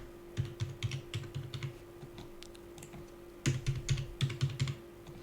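Password typed on a computer keyboard, two quick bursts of crisp key clicks separated by a short pause, close and distinct over a faint steady hum.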